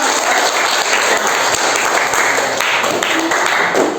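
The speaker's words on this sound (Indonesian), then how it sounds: "tepuk tangan dulu untuk kita semua" Loud, sustained applause from a large group of students in a classroom, dense and even throughout with no pauses.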